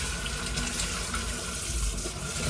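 Tap water running steadily into a bathroom sink during cleaning, a continuous close splashing gush with no pauses.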